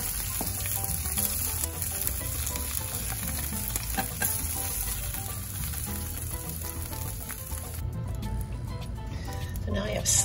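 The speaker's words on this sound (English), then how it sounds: "in that same flavorful oil, we're going to put our tempeh" Thin fillets of tempeh fry in flavorful oil in a pan, a loud, steady close-up sizzle with light stirring scrapes, and a person talks over it.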